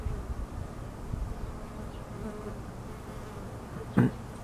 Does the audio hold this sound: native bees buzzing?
yes